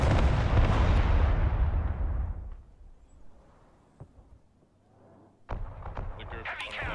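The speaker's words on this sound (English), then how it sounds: "Artillery at your order, sir. Direct fire on my mark." Artillery fire in the Broken Arrow video game: a loud, close booming barrage that rumbles and fades over a couple of seconds, a quieter lull with a faint thud, then another sharp blast and continuing rumble.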